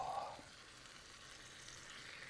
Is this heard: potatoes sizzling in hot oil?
yes